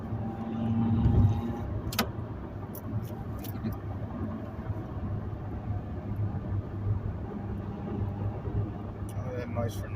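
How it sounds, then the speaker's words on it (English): A car with a loud muffler passes along a congested street, its low engine drone swelling briefly and then holding steady under faint background noise, fairly distant and muffled. "that car make a lot of noise. Yeah, he's got that loud muffler on."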